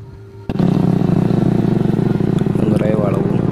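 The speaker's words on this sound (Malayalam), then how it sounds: "ബൈക്കിനാണ് ഞങ്ങൾ പോകുന്നത്." A motorcycle climbs a winding, hilly off-road route of big stones toward Ilaveezhapoonchira, its engine starting up abruptly and then droning loudly and steadily with a rattling chug, heard close.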